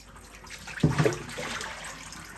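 Water drains and trickles from a handful of freshly blue-dyed wool fiber lifted out of a rinse, a brief close splashy burst midway amid quieter dripping.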